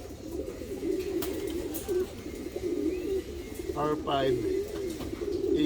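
Racing pigeons coo softly and repeatedly in a loft as they arrive from a race, with low, rolling murmurs and a few wingflaps, while someone speaks nearby.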